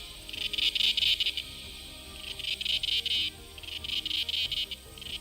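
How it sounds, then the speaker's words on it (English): Cicadas buzz in a loud, shrill drone that surges and fades in repeated waves, with brief pauses between bursts, filling the space all around with no voices. "cicadas make a pleasant sound that envelops you from all sides"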